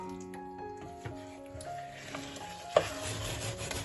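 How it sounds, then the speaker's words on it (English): Boiled potatoes are stirred into a mutton gravy for Parsi pulao dal, with soft scraping and wet stirring over a low sizzle and a steady background hum. "and mix it with the gravy."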